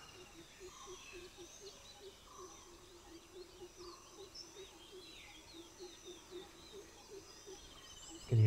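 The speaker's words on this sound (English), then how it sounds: "I can hear so many bird calls this morning." Birds call through a quiet morning in Bandhavgarh National Park, India, with faint scattered chirps and tweets repeating at a distance over a low insect hum.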